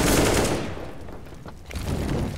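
Gunfire in a Counter-Strike match at a DreamHack Open esports event: dense, rapid shots blur into a loud, continuous rattle that eases slightly midway, then swells again.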